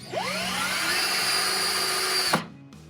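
A power drill whirs up and drives a screw, its high whine steady and close for about two seconds before stopping sharply.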